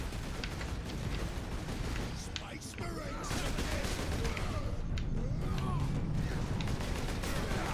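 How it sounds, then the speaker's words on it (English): Machine gun fire in Warhammer 40K Space Marine, sustained and rumbling at a middle distance with scattered impacts, mixed with battle noise. "machine gun's getting me, man"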